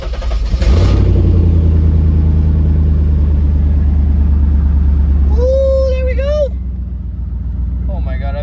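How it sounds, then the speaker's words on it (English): A Chevrolet C5 Corvette engine cranks and fires up, then settles into a loud, steady low idle rumble that carries on throughout, with a brief whine of other sound near the end. "so now I'm gonna start the car up,"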